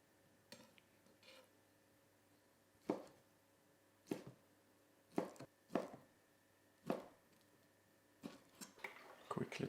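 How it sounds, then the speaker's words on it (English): A knife chops pickled ingredients into pieces on a board: sharp, separate thuds spaced a second or two apart, then quicker chops near the end, close and clear over a quiet room. "And I'm going to chop them up in pieces like this."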